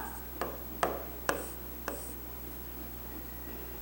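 A pen writing fractions on paper, a few short separate scratchy strokes in the first two seconds, close and quiet, then near silence over a faint steady hum.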